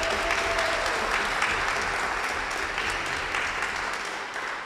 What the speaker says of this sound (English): One more round of applause for Nila.